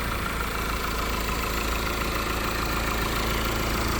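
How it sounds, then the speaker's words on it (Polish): Opel Insignia GS Line with a 2.0 petrol engine, 174 hp, idling steadily up close, a continuous even hum with a low rumble and no talk over it. "silnik pracuje prawidłowo"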